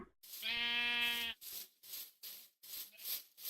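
A Minecraft sheep gives one drawn-out, nasal bleat up close, followed by a series of soft, evenly spaced footstep-like thuds with no talking.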